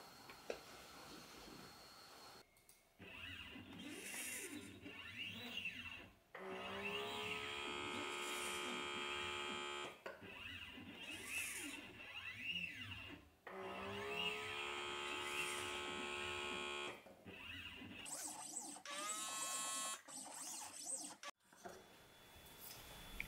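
A Dobot robotic arm with a vacuum cup runs a pick-and-place cycle on an educational machine-vision kit, its motors giving off whining, buzzing bursts separated by short pauses, with no talk over it.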